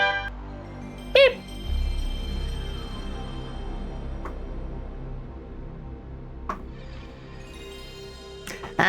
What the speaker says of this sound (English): Good old PlayStation 1 boot up sequence.